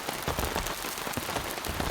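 Rain drumming on a tent on a mountain during a storm, a dense, continuous patter with irregular louder drops, close and steady with no voices.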